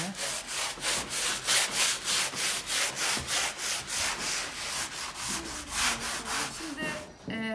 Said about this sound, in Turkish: Şimdi boyamadan önce bir kat zımpara yapıyoruz.